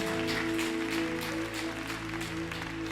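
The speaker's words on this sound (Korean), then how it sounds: "다시 한번 주님께 큰 박수로 영광 올려드립시다" A church congregation applauds during a Sunday worship service, dense steady clapping over sustained keyboard chords that hold through the whole stretch.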